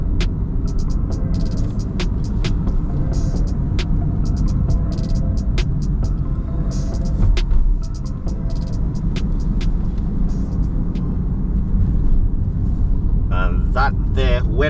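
A bus passes on a new highway near its junction with the southern main road toward Point Fortin, a steady loud road rumble and engine hum with traffic noise throughout and occasional air-brake-like hiss, with voices talking over it.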